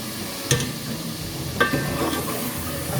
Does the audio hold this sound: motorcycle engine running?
no